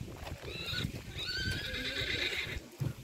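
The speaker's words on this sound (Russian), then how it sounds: "Ой, лошадка." A horse neighs outdoors near a lake in rural Azerbaijan, a long wavering whinny at moderate distance, with a few faint hoof and handling sounds and no talk.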